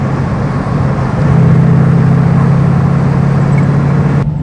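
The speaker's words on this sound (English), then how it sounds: "we've just shown how nicely it accelerates and everything" An MGB GT V8 with an Edelbrock carburetor accelerates, its engine giving a loud, steady drone that swells slightly and holds, heard from inside the car with no talking.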